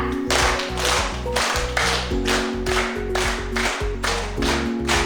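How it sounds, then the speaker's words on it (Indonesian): A classroom of pupils claps a counted one-two-three pattern in unison, loud, sharp and close, the claps falling in repeated regular groups with no talking over them. "Sekarang tepuk 1, 2, 3."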